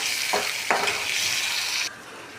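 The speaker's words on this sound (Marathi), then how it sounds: "पुदिना आणि कोथिंबीरची पेस्ट टाकली आहे। छान परतून घेणार आहोत आपण।" A mint and coriander paste with chili, garlic and ginger is sautéed in a pan: a steady sizzle with two quick scraping stirs, and the hiss drops away near the end.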